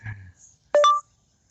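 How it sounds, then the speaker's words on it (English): A phone gives a short electronic blip, two quick rising tones at close range, after a brief low rumble, out on a ranch while checking cows. "Don't know why my phone just blipped"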